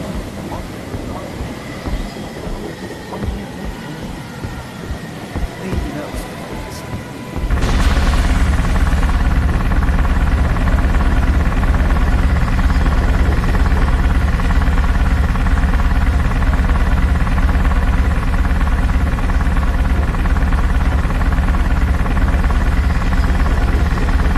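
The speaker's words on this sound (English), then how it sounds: "Crane is running." Heavy crane machinery in a Titanic video game starts up abruptly and runs with a loud, steady mechanical roar and drone after a stretch of quieter, uneven rumbling.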